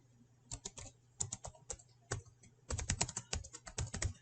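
Keys clatter on a computer keyboard in quick, uneven bursts as a title is typed into a document, close and crisp, with short pauses between runs of keystrokes.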